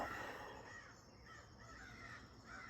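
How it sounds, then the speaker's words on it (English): Several crows caw outdoors in a quick run of harsh calls, moderately distant and fairly quiet, with no talking. "There's some crows cawing, multiple crows following each other right now."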